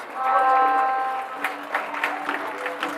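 Soccer crowd at a US Open Cup qualifying match applauding a goal, a swell of clapping and cheering that peaks early then settles into scattered claps with a few shouts.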